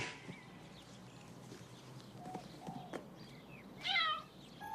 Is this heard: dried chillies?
no